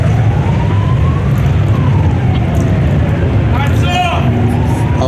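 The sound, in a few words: police sirens passing by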